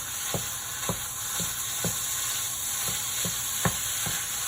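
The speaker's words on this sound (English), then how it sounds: "In goes my meat. That's what I like to hear, that sizzle." Ground meat for tacos sizzles steadily in a hot, ungreased pan, a constant bright crackle broken by a few sharp pops and taps.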